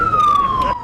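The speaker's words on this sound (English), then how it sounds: "Sirens blaring at full amplitude, alerting residents of this community living near the Volta River of a possible danger." A loud emergency warning siren blares in a steady tone that slowly falls in pitch, sounding across a community near the Volta River in the Akosombo area of Ghana, with faint background noise underneath.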